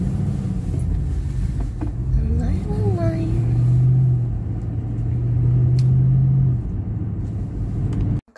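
A car driving slowly and turning hesitantly on a road, a steady low engine rumble close by, with someone speaking over it and a dog whining briefly.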